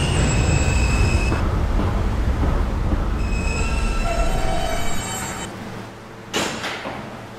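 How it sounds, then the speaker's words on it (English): A 2008 Kawasaki R160B subway E train, 57th Street bound, rumbles steadily along the rails with brief wheel squeals, then quietens before a sharp clatter near the end. "This is a 57th Street bound E train."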